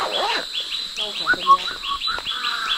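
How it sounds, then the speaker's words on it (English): Wild birds call in the Borneo jungle along the Kinabatangan, a few varied chirps and whistling notes standing out close over a steady insect drone, with no talking. "Birds sound really cool."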